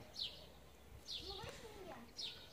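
Small birds singing outdoors on a spring day, three bright high chirps spaced about a second apart, faint and distant, with a quiet voice murmuring underneath.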